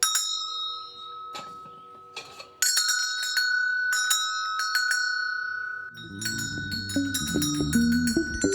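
Bells chime and ring out in clear, sustained tones, layered strikes building from sparse hits into a dense, overlapping peal, with a deeper melodic band part joining beneath them toward the end.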